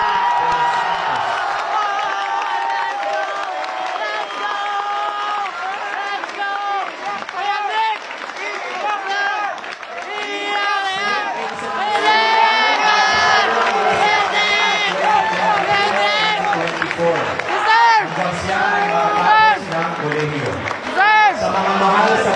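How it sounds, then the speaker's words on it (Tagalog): A school crowd applauds and cheers loudly for a student named Nick at a national high school in Antipolo City, with whoops and shouting voices over continuous clapping throughout. "Palakpakan natin siya na may kasamang malakas na hiyawan"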